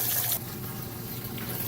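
A Frigidaire compact stacked washer fills with water, a soft steady rush of liquid running into the drum, faint and continuous after a brief louder burst at the start.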